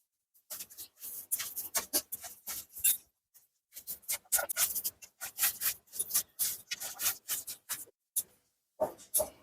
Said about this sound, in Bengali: একটা ডিম নিয়েছি, ফাটিয়ে নিলাম, আর ডিমটা দিয়ে মেখে নেবো